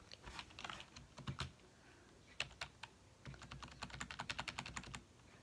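Typing on a keyboard hooked up to an Xbox, bursts of quick clicky keystrokes in uneven runs with short pauses, close and fairly faint.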